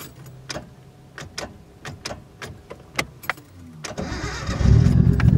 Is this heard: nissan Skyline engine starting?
yes